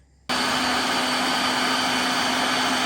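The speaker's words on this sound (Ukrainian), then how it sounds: "та фарш, який ми відділили від рибки, це все перекручуємо на м'ясорубку" A meat grinder switches on abruptly after a brief quiet moment and runs in a steady loud motor whine while mincing pike fish.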